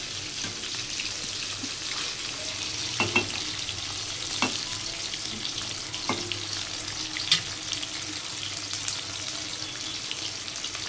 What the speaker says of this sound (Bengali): বেশি ভাজবো না, এগুলো আধ ভাজা করে তুলে নেব।